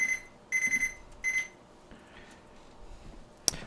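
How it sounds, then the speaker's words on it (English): A kitchen timer for a pizza beeps in three short clustered bursts, the bursts fairly loud and close, followed by quieter room sounds and a brief click near the end. "there's the timer again"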